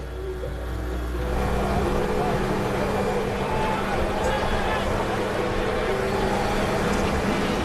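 At the Ford 200 NASCAR truck race in 2008, a field of race truck engines fires up and settles into a loud, dense, continuous roar that fills the track from about a second in.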